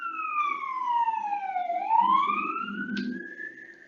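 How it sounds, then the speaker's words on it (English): A passing fire truck siren wails, its pitch gliding down and then rising again over a few seconds, heard clearly at moderate distance. "Here comes the siren."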